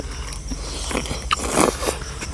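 Crispy pork rinds crunch in a single close bite followed by a few crackling chews, eaten alongside spicy fresh shrimp papaya salad.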